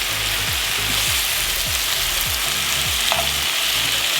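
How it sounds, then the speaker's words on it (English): Spinach tossed into a hot pan with lemon pepper and garlic, a loud, continuous close-up sizzle with repeated stirring scrapes and clinks, no voices. "But I'm going to add my spinach in."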